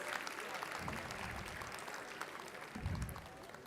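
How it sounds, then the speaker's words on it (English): An audience at a university convocation ceremony claps in a steady patter, fairly faint and roomy, with a few louder low thumps near the mouthpiece. "So can we all give them a huge round of applause"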